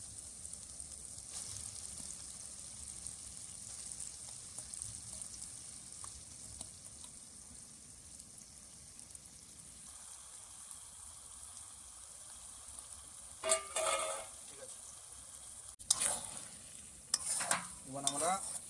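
Goat meat frying in a pan for a winter-night picnic, with a soft continuous sizzle that gives way to several loud stirring scrapes near the end, and no voices.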